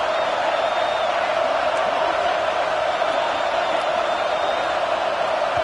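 A steady stadium crowd roars in EA College Football 26 during USC vs LSU, a constant loud wash of noise with no breaks while a commentator's voice sits faintly underneath.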